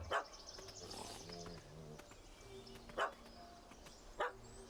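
A dog barks in The Witcher 3 (Hearts of Stone), two or three separate sharp barks spaced a second or so apart over a steady game ambience with faint background sounds.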